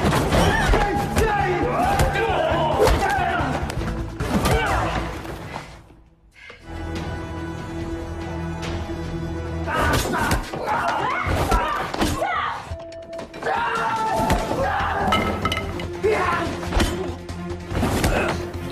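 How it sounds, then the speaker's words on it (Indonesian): Fistfight thumps, whacks and slams from a film brawl, sharp hits in bursts with a brief quiet gap, under dramatic music and voices. "Dan lagi-lagi baku hantam pun tak dapat dihindarkan."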